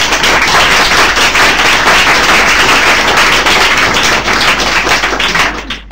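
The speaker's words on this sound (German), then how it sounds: "ich bitte ihn mit einem netten Applaus willkommen zu heißen" A reading audience welcomes the novelist Steve Toltz with loud, sustained applause, a dense crackle of many hands clapping throughout before easing off at the very end.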